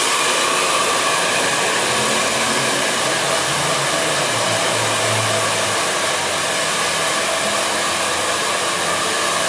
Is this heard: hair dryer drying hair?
yes